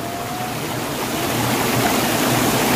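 River water flowing through a dammed stretch near a waterfall in Sumedang, a loud, steady rushing wash filling the whole clip, with no talk.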